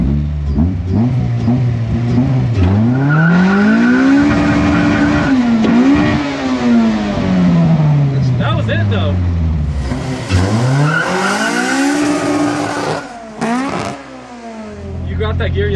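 A Honda CRX with a B18 engine revs hard and climbs through the gears, loud rising engine pitch dropping at each shift, with tire squeal and people talking over it inside the car.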